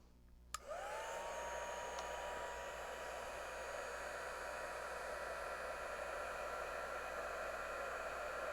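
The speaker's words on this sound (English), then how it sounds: "All right, let me grab my heat tool" A crafting heat tool clicks on and runs on its low setting, a steady fan-like whoosh with a faint high whine that continues evenly throughout.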